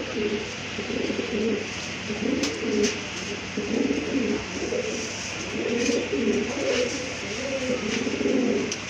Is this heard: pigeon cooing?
yes